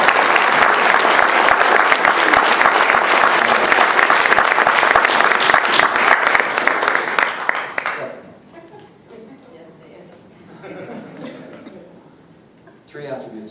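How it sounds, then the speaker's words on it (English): An audience at a Toastmasters meeting breaks into a loud, dense round of applause lasting about eight seconds, then the clapping drops away to quiet room sound with faint voices. "Nice round of applause."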